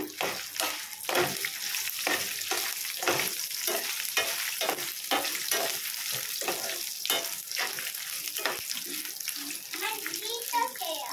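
Pan-frying sweet mint chutney ingredients while they are stirred, a steady close sizzle broken by repeated scraping strokes of a spoon across the pan, no voices.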